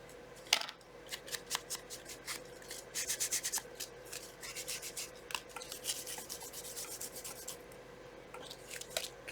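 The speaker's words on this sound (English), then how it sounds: "The tiny scissors." Small scissors snip repeatedly in quick, uneven bursts of crisp clicks and rasps, close by and fairly quiet, with no voices.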